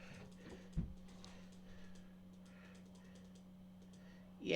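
Quiet, close typing on a computer keyboard with scattered mouse clicks during a card shop simulator game, soft irregular key taps over a low steady hum, with a louder click near the start and another at the end.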